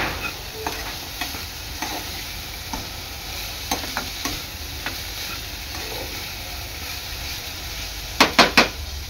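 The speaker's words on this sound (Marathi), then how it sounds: "आणि आपली भाजी आहे ना, ही चांगली 5 मिनिटं परतून घ्यायची आहे." Vegetables for a pizza pocket filling sauté in a pan with a steady low sizzle, broken by scattered spatula scrapes and taps, ending in three sharp knocks against the pan.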